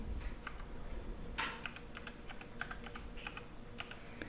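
Keys clatter on a computer keyboard as a username and password are entered on an AS/400 system, giving a quiet, close, uneven run of taps with no one talking.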